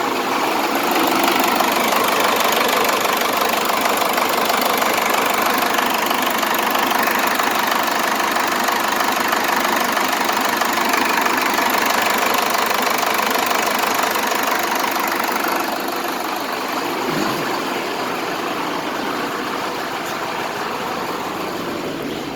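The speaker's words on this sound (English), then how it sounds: "Anyway, we'll look at the diesel engine here." A Cummins diesel engine idles steadily in a Ford truck, a loud, continuous knocking rumble with broadband clatter that holds level throughout and dips slightly near the end.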